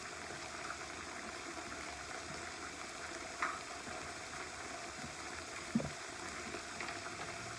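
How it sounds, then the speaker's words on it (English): A pot roast sizzles steadily in a hot pan, a constant close frying hiss with a couple of brief clicks and bumps of the pan. "our pot roast is cooking up real good, guys"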